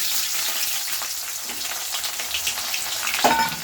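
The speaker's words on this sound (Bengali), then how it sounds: "আমি প্রায় মানে 1 থেকে 150 গ্রাম পেঁয়াজ কুচি করে রেখেছি, আমি এটা তেলের ওপরেই দিয়ে দিচ্ছি" Chopped onions frying in hot oil for a dal and egg curry, a steady bright sizzle with crackling pops and a louder scrape near the end, no talking.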